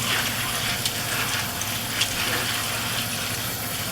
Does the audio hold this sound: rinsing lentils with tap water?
yes